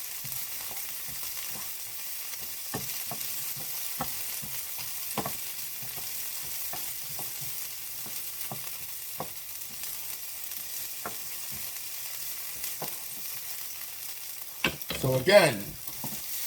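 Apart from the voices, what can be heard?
bell peppers frying in a pan for Philly cheesesteak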